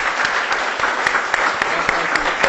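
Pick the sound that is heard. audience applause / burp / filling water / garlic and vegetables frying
audience applause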